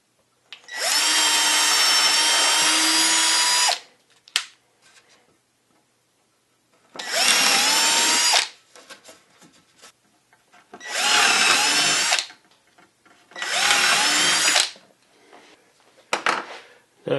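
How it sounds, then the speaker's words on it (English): A power drill pre-drilling holes in wood whirs in several bursts of a few seconds each, spinning up loud and close, with quiet pauses and light handling noises between. "So I want to pre-drill those."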